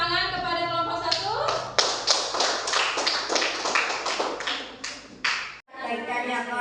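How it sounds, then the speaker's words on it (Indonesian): Pupils in a sixth-grade classroom clap for group 1 in bursts of irregular sharp claps, mixed with chatter and voices, with a sudden brief break near the end. "kita beri tepuk tangan kepada kelompok 1"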